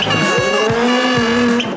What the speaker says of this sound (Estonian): Toyota GR Yaris.